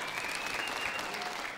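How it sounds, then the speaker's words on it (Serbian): Steady applause from a studio audience at a television show, a dense wash of clapping throughout, fairly faint and with no talk over it. "Hvala, veliki aplauz."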